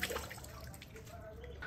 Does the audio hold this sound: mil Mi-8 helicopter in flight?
no